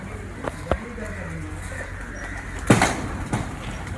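High-flying pigeons coo softly and repeatedly close by, with occasional sharp clicks and knocks of handling between the calls.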